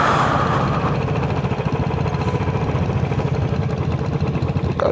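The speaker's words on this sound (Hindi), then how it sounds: "गाड़ी आ गई, गाड़ी को जगह देनी पड़ेगी।" A vehicle approaches on a narrow, rough mountain road near Mussoorie, its engine chugging steadily and loudly close by for several seconds, with a few brief louder knocks.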